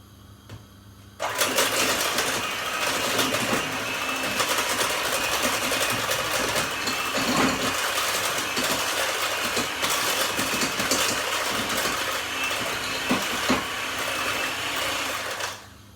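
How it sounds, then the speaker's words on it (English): An electric whisk mixing a batter of flour, egg and milk for toad in the hole, starting after a second and whirring loudly and steadily for about fifteen seconds with small rattles against the bowl. "we're going to use our electric whisk to mix that up"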